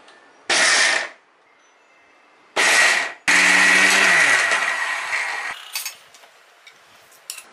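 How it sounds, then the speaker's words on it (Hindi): A mixer grinder runs in short pulses to coarsely crush lentils for motichoor laddu: two brief loud bursts, then a longer grinding run that slowly fades, with faint rattling afterward. "इसमें थोड़ी थोड़ी दाल डाल के क्रश कर लेते हैं इसे हमें एकदम कोर्सली क्रॉस करना है पल्स बटन दबा के इसे रुक रुक के चलाएंगे"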